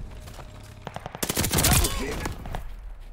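Heavy video-game gunfire in Call of Duty Vanguard, a dense fusillade of rapid shots peaking mid-clip and tapering off, with a background voice faintly under the battle.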